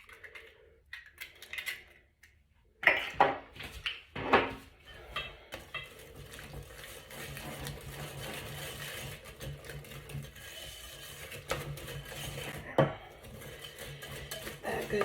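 Egg is mixed into chocolate chip cookie dough in a bowl, heard after a quiet start as rapid, repeated clattering of a utensil against the bowl, close and fairly loud, settling into continuous rhythmic beating.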